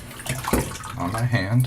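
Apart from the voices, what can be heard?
fresh tap water poured onto a hand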